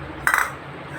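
A child plays with a metal wok (kadai) and strikes it once for a single bright metallic clang with a short ringing tail. The clang sits over a quiet room hum.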